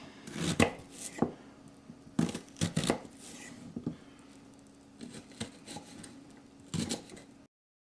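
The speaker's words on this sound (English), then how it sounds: "I'm taking a large sweet onion. I'm going to chop it pretty fine." A large sweet onion being chopped finely on a board, with bursts of quick close knife taps separated by short pauses and lighter rustling between strokes, no talking.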